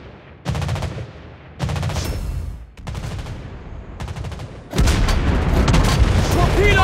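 Anti-aircraft guns firing aboard a USA cruiser Pensacola in the naval game World of Warships Blitz: loud bursts of rapid gunfire come in several blocks with brief gaps, ending in a sustained, denser barrage.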